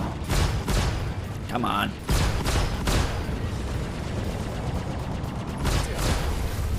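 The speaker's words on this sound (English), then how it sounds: "when you do hit with those main cannons, they do some serious damage" Main cannons on a Vanguard ship fire in the space game Star Citizen, heavy booming bursts around the start and again near the end over a constant engine rumble, with someone speaking briefly.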